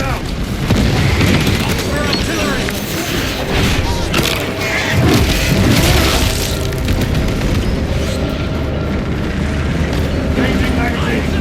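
A frag grenade going off in the Warhammer 40,000: Space Marine 2 campaign brings heavy booms and rumbling blasts amid constant battle noise, with voices calling out over the din.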